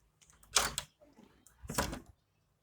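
A wardrobe door in a room is pushed shut, making two quiet clattering knocks about a second apart with a little handling noise between them and no talking.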